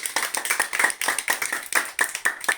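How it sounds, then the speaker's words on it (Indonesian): Quick, uneven hand claps from a small group of schoolchildren in a classroom, close by, continuing steadily for a few seconds with no talking. "tepuk tangan dulu"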